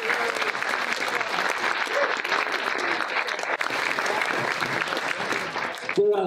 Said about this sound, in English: Give yourself a round of applause for being here tonight.